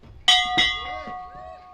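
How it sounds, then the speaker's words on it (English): A bell at a high school graduation is struck twice by stepping on a pedal, two bright close clangs in quick succession, each ringing out with a long shimmering decay. "Step on the top of that pedal, buddy. Sound that bell."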